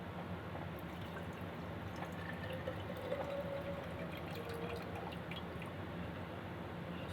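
Water pours out of an electric kettle under repair in a steady, faint splashing stream that runs throughout with no speech.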